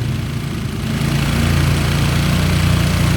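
A Honda Karisma motorcycle engine held at a high idle, a steady close mechanical drone with a constant low rumble and no talk.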